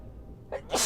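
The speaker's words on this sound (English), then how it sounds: "Oh, gotta sneeze." One person sneezes in a sharp, close burst near the end, after a short quiet intake, during a World of Warcraft play session.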